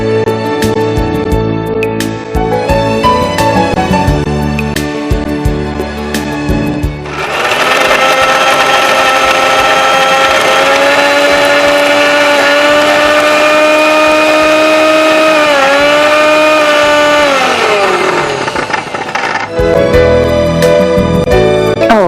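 A mixer grinder whirs loudly and steadily while blending boiled mutton pieces, a sustained motor drone running for about twelve seconds and winding down, with quieter clatter and handling before and after.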